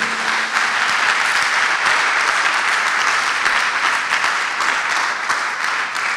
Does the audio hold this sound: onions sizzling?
no